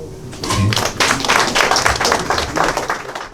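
Loud, close applause and clapping from a small audience at a debate podcast taping, dense bursts of hand claps filling the clip with a bit of voice mixed underneath.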